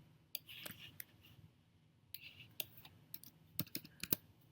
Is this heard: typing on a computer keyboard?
yes